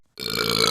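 An animated female character lets out a single short, harsh burp that starts abruptly after a moment of silence and holds steady until the end.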